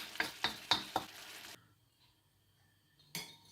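Chicken stir fry cooks in a pan, with four quick rhythmic stirring scrapes over a faint sizzle, then a quiet pause before one more stir, close and fairly soft.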